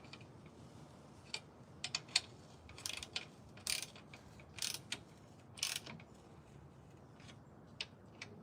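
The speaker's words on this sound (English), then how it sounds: "So now we can tighten up these nuts" Nuts and bolts on a forge door are tightened with a ratcheting tool, giving short bursts of quick metallic clicks separated by brief pauses, close and fairly quiet with no talk.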